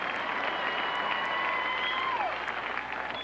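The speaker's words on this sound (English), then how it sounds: "Don't applaud all night." Audience applause at a 1994 award ceremony for Charley Pride, a dense, steady wash of clapping from a large crowd, heard at moderate distance and continuing without a break.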